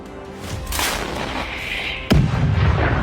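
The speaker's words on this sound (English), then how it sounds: "Ukrainian 152mm artillery receives the coordinates and opens fire." A Ukrainian 152mm artillery gun fires with one sharp, heavy boom, loud and close, set against a steady rumbling backdrop of battlefield noise.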